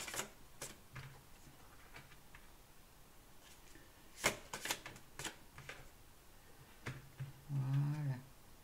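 Tarot cards being shuffled and laid down one by one during a sentimental reading: sparse crisp card snaps and flicks at irregular intervals, then a brief rustling shuffle near the end, close and fairly quiet with no talk.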